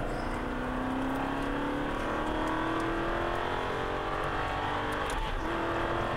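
An Aston Martin V8 Vantage engine revs up steadily under constant road and wind roar, its pitch climbing as it accelerates.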